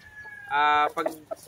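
A mother hen lets out a short squawking cluck, close by, followed by a few softer clucks and faint background murmur.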